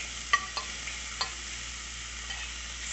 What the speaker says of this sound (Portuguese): eu coloquei a panela no fogo, o bacon já está aqui picadinho, agora eu vou fritar esse bacon.